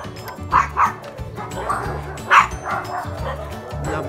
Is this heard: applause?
no